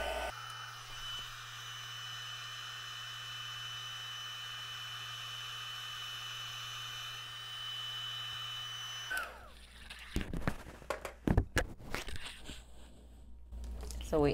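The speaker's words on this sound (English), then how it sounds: "Bring in our heating tool." A craft heat tool blows hot air in a steady, fairly loud whoosh for about nine seconds, then cuts off and leaves crinkling handling noises and brief knocks.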